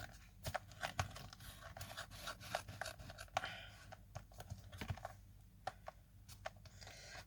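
Scattered snips and scraping crunches of scissors cutting through a taped cardboard box, irregular and fairly close, with no talking.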